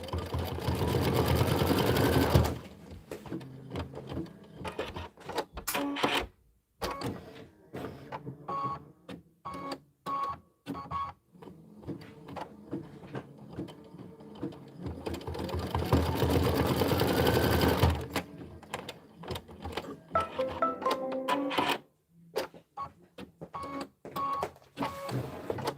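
An embroidery sewing machine stitches small dots in linen thread, running in loud, rapid mechanical bursts with brief pauses between, and fast whirring stretches near the start and middle.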